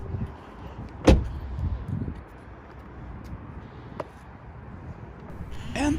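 A Kia or Hyundai car door opens once with a sharp near click and thump as the driver climbs out, followed by quiet rustling and a second fainter click.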